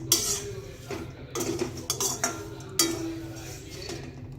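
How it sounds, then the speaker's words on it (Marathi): A spoon clinks and scrapes against a pan while stirring rose petals into hot seeds, in a few light bursts with quiet gaps between them, close up. "आता हे तर बीज गरम आहे, यातच थोडंसं असं मिक्स करून घ्यायचं आहे."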